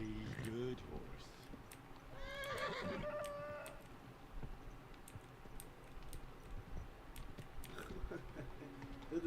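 A horse in the video game Kingdom Come: Deliverance II whinnies once, a shrill quavering neigh, amid faint clicks and scattered ambient noise.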